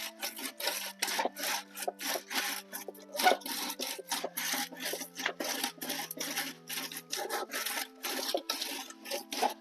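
A groundnut shelling machine runs steadily with a dense, rasping, rattling rumble and rapid repeated scraping bursts, loud and continuous throughout.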